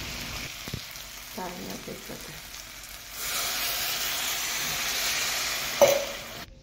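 Water poured into a hot pan of cooking matki (moth bean) vegetable curry with spices, salt, coriander and crushed peanuts, bursting into a loud, steady sizzle and hiss after a few soft stirring clatters, alone with no talk.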